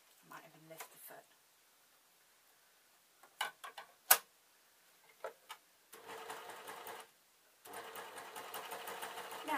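A domestic sewing machine stitches a Vax mop replacement cover with elastic, first in a few short ticking bursts, then in two longer steady runs of rapid stitching, all fairly quiet.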